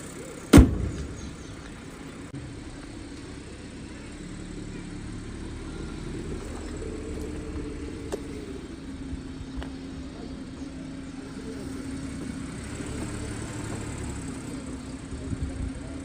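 Audi A6 engine, bought about a month earlier with a suspected abnormal ticking fault, idles steadily at close range for the whole stretch, a low continuous hum after a brief sharp knock at the start, with no talk.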